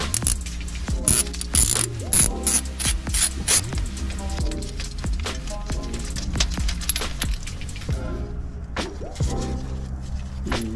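Close, rapid ratchet clicking comes in repeated bursts as the timing belt tensioner is loosened on a Suzuki Carry, with brief pauses and metallic clinks between strokes.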